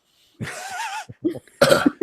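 A short burst of coughing close to the microphone, a few rough hacks in quick succession.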